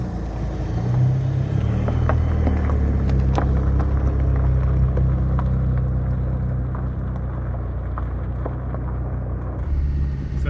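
Camper van driving on the road during a short test drive, a loud steady low engine and road rumble from inside the cab with small knocks and rattles.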